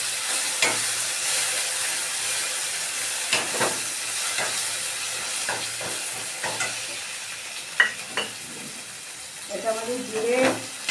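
A spice paste of cumin, garlic, ginger, chillies and two large onions roasts in a pan, hissing and sizzling under repeated scraping stirs, with a brief voice near the end.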